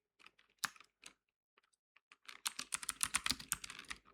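A commit comment being typed on a computer keyboard: a few sparse, separate key clicks, then a quick dense run of close keystrokes that grows louder toward the end, no talking.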